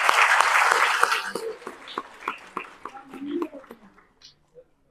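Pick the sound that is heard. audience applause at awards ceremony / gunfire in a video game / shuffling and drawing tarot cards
audience applause at awards ceremony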